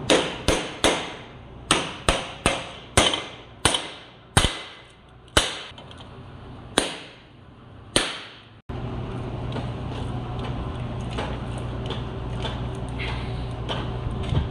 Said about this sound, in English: just a simple hammer and a plate